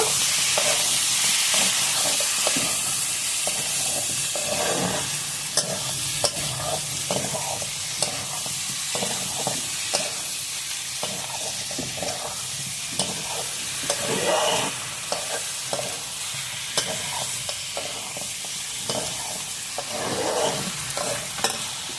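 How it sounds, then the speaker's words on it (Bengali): Tahari mixture of rice, meat and spices being stirred and sautéed in a pan, with a loud continuous sizzle and repeated scraping strokes of a spoon throughout, no talk. "এখন সবকিছু ভালোভাবে মিশিয়ে এটা কষিয়ে নেব।"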